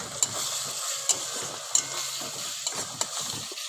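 Ginger and ground spice powder are stir-fried in a pan for a Bengali fish curry, with a soft continuous sizzle broken by regular sharp scrapes and clinks of a spatula stirring close by.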